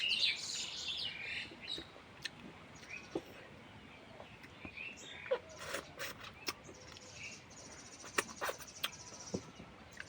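Birds chirp around a house, with bright calls bunched at the start and scattered thereafter, amid quieter stretches with faint clicks and a low background hum, no speech.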